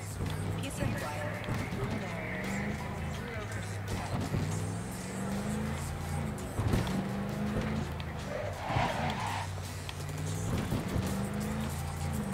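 In-game engine noise of a heavy car driven in Cyberpunk 2077, a steady low drone that rises and falls with throttle, running continuously under someone talking.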